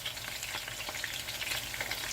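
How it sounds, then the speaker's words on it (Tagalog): Salmon fish fries in a pan with a loud, continuous close sizzle and crackle of hot oil and scattered pops, with no talking. "Ayan, nagprito ako ng isda."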